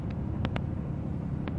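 A truck engine drones low and steady in seventh gear while descending the Serra de Garuva mountain road, a continuous close rumble with a few faint clicks.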